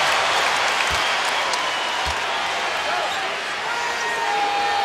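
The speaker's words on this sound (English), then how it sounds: "Crowd delights." A basketball arena crowd at a Lakers–Celtics game keeps up a loud, steady roar of cheering, with a couple of sharp thuds partway through and a commentator's voice under the noise.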